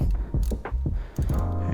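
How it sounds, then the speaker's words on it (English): A wrench clicks and ratchets in short bursts while loosening the oil drain plug on a 2016 Yamaha R3 sportbike, with close metallic creaks between turns. "From here, you want to take out the drain plug."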